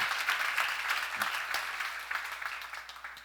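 A church congregation claps steadily and fairly loudly for a few seconds during a sermon, a dense wash of applause with no voices standing out.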